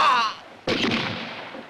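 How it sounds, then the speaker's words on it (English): Gunshot with a bullet hit in a Western film: a short high whistle fades out, then one sharp, loud crack follows with a lingering rough tail, and a final quick pop comes at the end. "There's harsh whipping that'll leave many a scar, as well as bloody bullet hits, including a hilarious headshot."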